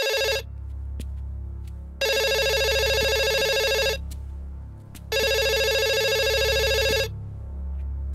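A telephone rings unanswered in a police office scene: two long bursts of bright electronic ringing separated by a pause, loud and alone over a low background hum.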